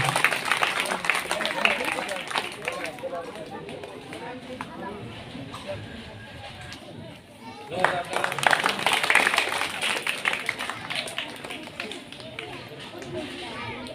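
A crowd of students applauds steadily at a school Independence Day prize ceremony. The dense clapping runs throughout, dips briefly midway, then swells again.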